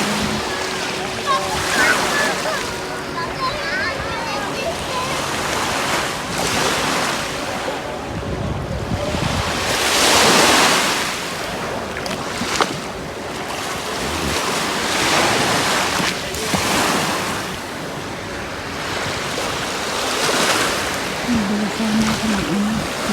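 Sea waves at Chania, Crete, surging and washing in repeated loud swells roughly every few seconds, mixed with wind buffeting the microphone close by.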